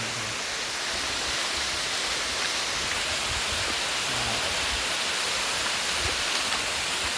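Waterfall at a scenic nature spot, a steady dense roar of rushing water filling the scene evenly from start to finish with no voices.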